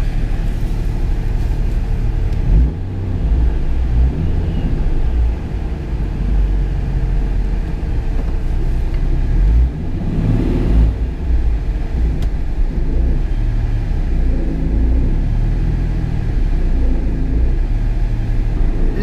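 A supercharged Nissan 350Z running 10 psi of boost makes its first pulls, with a loud, rough engine rumble and a surge of acceleration around the middle of the run.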